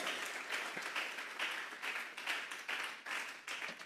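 Church congregation clapping in a steady, rhythmic surge of applause, moderately loud and a little distant, with pulses every half second or so and no talk over it.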